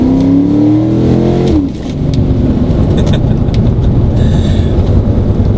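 A 2004 Mustang GT with BBK long-tube headers, BBK X-pipe and Magnaflow axle-back rumbles loudly and throatily, rising in pitch as it revs, then settling into a sustained deep exhaust roar.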